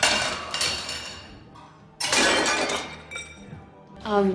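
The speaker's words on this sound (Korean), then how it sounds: "둘의 모습에 빡친 빅은 접시를 떨어뜨리죠" A plate is dropped onto a kitchen floor and shatters in a film scene, a sharp crash with scattering shards, followed by a second clattering break and then a brief voice.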